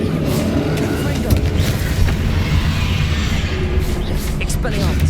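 Confringo fire spell blasts in the Hogwarts Legacy video game, heard as booming, rumbling explosions within a dense, loud mix of combat effects, with voices calling out over the action.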